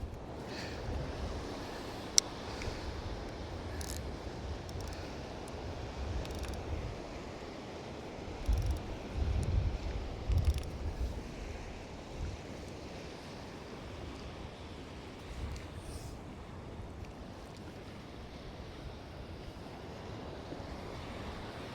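Strong wind on the Holderness coast at Withernsea, a steady low roar of gusts and microphone buffeting with breaking surf beneath, loud and continuous with occasional stronger bursts and no talking.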